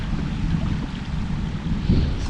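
Strong wind buffets the microphone at the water's edge during a trout fishing outing, a steady low roar with gusts swelling toward the end, no talking.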